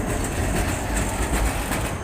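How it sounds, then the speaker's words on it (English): A Skoda T14 tram designed by Porsche passes close by on a Prague street, giving a loud continuous rumble of rail wheels with faint rhythmic clacks and a high hiss. "There's 9119, one of the T14 trams built by Skoda but designed by Porsche."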